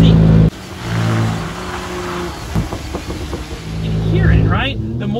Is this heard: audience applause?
no